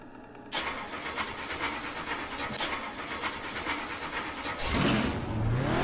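A stalled car cranking and firing back up in a racing sim game, a steady mid-pitched engine rumble that rises and swells louder near the end as it catches.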